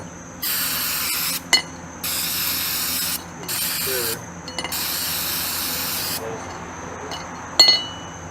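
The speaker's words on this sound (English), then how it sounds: "I'll hit it with one more coat of the brake clean." Aerosol brake cleaner sprayed onto a transmission in four steady hissing bursts of about a second each, close up, with small metallic clinks between bursts and no talking.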